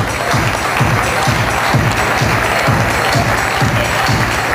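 Spectators applaud continuously at a parade of pageant queens and candidates, loud, dense crowd clapping with a steady rhythmic beat of music underneath.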